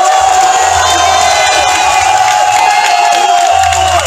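Crowd at a political rally in Côte d'Ivoire, welcoming Charles Blé Goudé on his return, cheers loudly with whoops and shouts in a dense, continuous roar, while a sustained tone hums through the noise.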